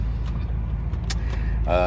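A 1996 Pontiac Firebird Formula with an LT1 engine and 6-speed idles smoothly at 28,000 miles, giving a steady low rumble close by, with a brief higher tonal chirp near the end.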